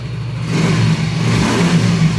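A Yamaha Mio i 125 scooter engine with a check-engine error 28 fault runs steadily with a throaty mid-pitched drone, its tone rising and falling slightly as the throttle shifts, close and fairly loud.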